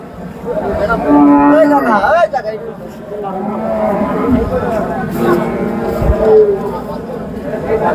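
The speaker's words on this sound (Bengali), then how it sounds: "আজকের হাটের সবচেয়ে সুন্দর গরু ফাইটিং বুল।" At a busy Hazratpur cattle market, cattle moo loudly and close by, one long low call and then more lowing, while people talk and a crowd murmurs in the background.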